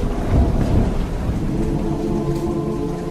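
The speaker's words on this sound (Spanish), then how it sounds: "empezó a llover y a tronar antes incluso de iniciarse la misa" A heavy thunderstorm pours down rain while deep rumbling thunder rolls through, loud and continuous, with a stronger low crash near the start.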